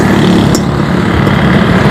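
A motorcycle engine runs loud and close with a steady, unbroken rumble during carburetor tuning, with no gaps or revs.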